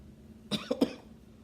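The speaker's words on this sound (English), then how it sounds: "Coughing a little bit here." A couple of short, muffled chest-infection coughs close by, a quick burst then two more hacks, against a quiet background.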